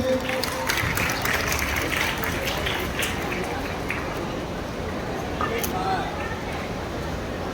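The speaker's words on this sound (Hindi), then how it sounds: "एक बार जोरदार तालियां हो जाए।" Audience clapping steadily at a village self-governance (Gram Swaraj) gathering in Adampur, a dense, continuous wash of applause from a sizeable crowd that holds at an even level throughout.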